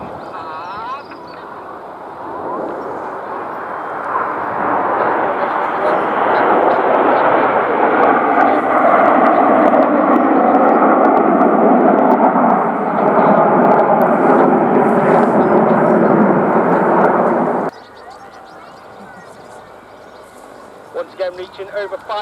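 The Red Arrows RAF jet formation at the Cosford air show roars overhead, a loud, broad engine rumble that swells and holds for many seconds before cutting away, with a commentator talking over the PA.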